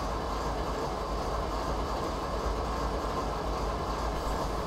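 A long freight train with many wagons rolling along the track in a train simulator game, a steady close rumble with faint rhythmic clatter of wheels, continuous and without voices.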